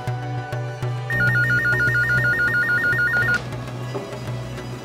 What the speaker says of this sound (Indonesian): Kayaknya aku harus telepon Galaxy dulu deh ke rumahnya